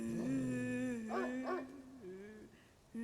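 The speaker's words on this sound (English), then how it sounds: "The dog is whining, like it's afraid of something." A dog whines in the horror video game Spirit Hunter NG: a thin, wavering, high whimper that rises and falls in pitch for about three seconds, fairly close and continuous, with a short yelp at the end.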